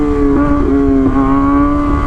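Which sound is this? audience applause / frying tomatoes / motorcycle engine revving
motorcycle engine revving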